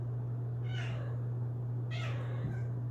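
A cat meows twice from a third-floor windowsill, two faint plaintive calls about a second apart over a constant low electrical hum, with no talk.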